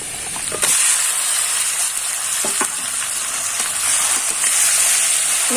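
Spiced marinated chicken pieces hit hot oil over lightly browned onions in a pan for a Bengali chicken jhol, giving a loud, steady close sizzle with brief stirring clatters, no talking.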